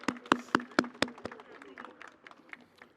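A few sharp claps open at a campus march, then thin out into scattered, uneven clapping from a small audience, moderately near and fading toward the end.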